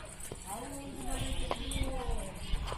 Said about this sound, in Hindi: बकरी जा रही है और ये बच्चे जा।